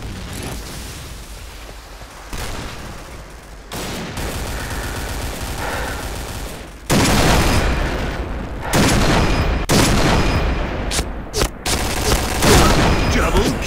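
Rapid bursts of gunfire in the game Point Blank, dense and loud, with booming shots in quick clusters and a voice talking briefly between volleys.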